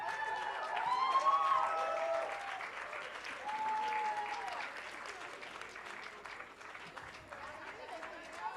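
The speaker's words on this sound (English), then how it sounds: "Guys, some applause for this team." An audience applauds a team at the Neev Literature Festival reading challenge finale, with sustained, fairly distant clapping that swells and then eases, mixed with crowd voices and a speaker talking over it.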